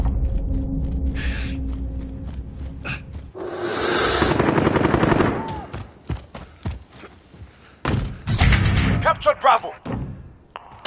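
Gunfire and explosive thuds from the Call of Duty Modern Warfare video game, with bursts of heavy low rumble and sharp cracks that come and go over about ten seconds, mixed with game voice callouts.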